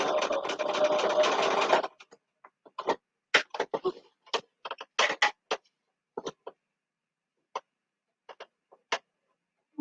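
Sewing machine running steadily for about two seconds while stitching a side seam, followed by scattered light ticks, taps and handling clicks in an otherwise quiet room.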